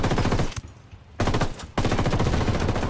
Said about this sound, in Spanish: Hay un tiroteo entre los rebeldes y Santa Plata.